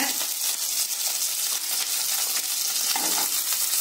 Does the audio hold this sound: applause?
no